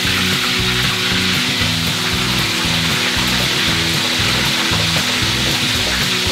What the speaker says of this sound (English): So we're just gonna fry that both sides so it's like nice and golden brown